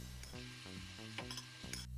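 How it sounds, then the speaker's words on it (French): Meat sears in a hot pan, a continuous sizzle punctuated by a few light metallic clinks and scrapes as it is turned, close and fairly quiet with no talk. "Donc je retourne la viande pour bien la faire griller."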